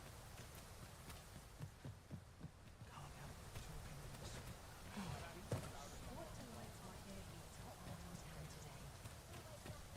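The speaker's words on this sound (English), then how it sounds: "And it rains." Rain falls steadily in the game Dragon's Dogma II, a soft continuous patter that stays quiet and even throughout, with faint thumps and hoof-like knocks beneath it.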